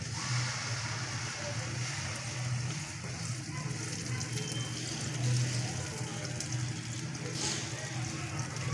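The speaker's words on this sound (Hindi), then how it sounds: "इसमें थोड़ा सा पानी मैंने ऐड किया" Water pours into frying spice paste with cumin for an egg masala curry, giving a steady, close hiss and bubbling gush that holds evenly throughout without a break.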